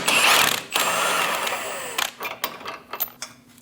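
A ratchet on a 21mm socket works a control arm bolt loose on a Dodge Durango front suspension, a dense metallic rasp that gives way to a run of separate sharp clicks and knocks.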